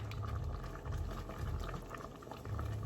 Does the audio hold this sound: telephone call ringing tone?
no